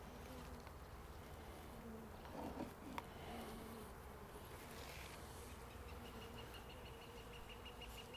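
Honeybees buzz in a dense, continuous hum around an opened hive during a spring inspection, steady and close, with a faint click partway through.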